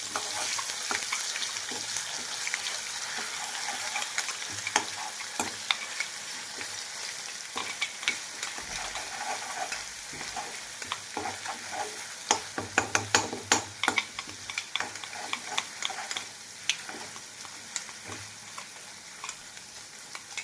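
Ground masala paste for stuffed brinjal sabzi sizzles steadily in hot oil while a spoon stirs it, with scraping clicks and a brief louder burst of spatter midway, no talking.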